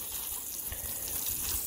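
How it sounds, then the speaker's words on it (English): Water sprays across a garden in a continuous, even hiss with no breaks, fairly close and moderately quiet. "I'm just gonna, you know, spray water all over the place here while I talk."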